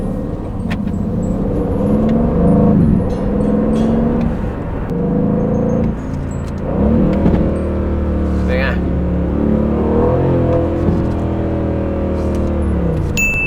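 An Aston Martin Vantage V8 engine rumbles low and steady through a test drive, with some rises in pitch, heard under continuous talking inside the car.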